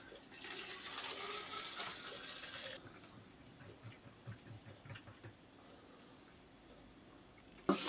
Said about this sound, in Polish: zalewamy sobie gorącą wodą.